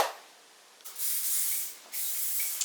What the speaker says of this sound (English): Why are you putting bug spray on, James?